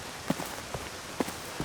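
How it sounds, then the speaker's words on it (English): Rain patters in a steady wet wash, with a few heavier drops or splashes landing irregularly close by, outdoors on a long walk near a harbour. "the rain makes it quite a chore"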